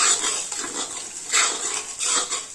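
Masala with cumin and asafoetida sautéing in a hot pan for masala aloo, a close, bright sizzle swelling and easing in three bursts as the spices are stirred, with no talking.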